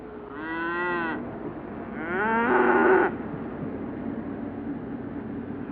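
Herded cattle moo loudly twice in long, drawn-out calls, heard close over a steady hiss of background noise.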